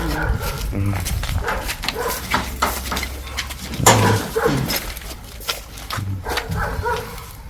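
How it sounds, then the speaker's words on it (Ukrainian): A dog barks and whimpers near a shelled house, giving a few sharp barks and whines between stretches of people talking nearby. "А ось собака."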